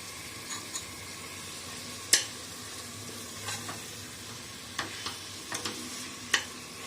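Ginger garlic paste sautéing with tomatoes in a pan for mushroom biryani: a steady low sizzle broken by sporadic sharp spatula scrapes and taps, close and fairly quiet, with no talking.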